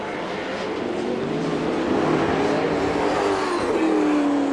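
V8 Supercars racing past at Calder Park in 1997, engines rising from a distant drone to a loud, close roar as the cars approach, with a rising then falling pitch as they pass.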